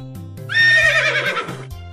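A horse whinnies loudly for about a second, a bright shrill neigh standing out over a soft, steady low musical backing with no talking.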